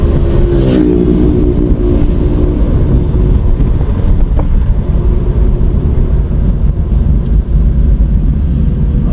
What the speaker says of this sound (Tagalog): Traffic na naman dito sa may sa may bagong kalsada.